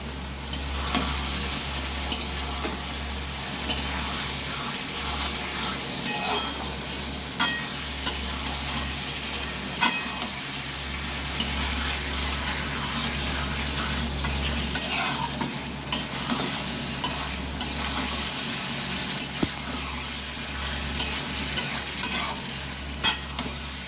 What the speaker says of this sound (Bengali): ভেজে রাখা আলু ফুলকপি দিয়ে আরও কিছুক্ষণ কষিয়ে নেব।